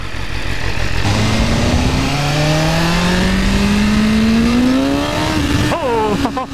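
A BMW S1000RR sport bike accelerates hard through the gears, its rising engine whine climbing steadily over heavy wind rush before a quick rev and shift near the end as the front wheel lifts.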